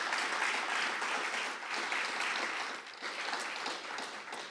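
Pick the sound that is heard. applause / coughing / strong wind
applause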